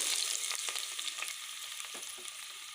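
Onion, garlic and tomato sizzle in hot oil with mustard seeds, a steady close hiss of frying with light crackles and stirring scrapes, fading slightly over a few seconds, with no voices.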